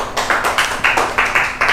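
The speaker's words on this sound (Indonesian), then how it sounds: "Tepuk tangan buat Mas Fauzan." A classroom group claps in unison, about seven loud, evenly spaced claps in a quick rhythm, close and with no one talking.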